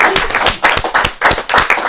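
Audience applauding at a bookshop literary event, a short burst of dense, steady hand clapping from a room full of people, fairly close and loud.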